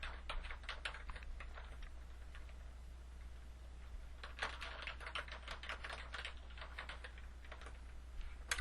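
Quiet, close keystrokes on a computer keyboard fill the whole stretch in irregular bursts of rapid clicks, with short pauses between runs and no talking.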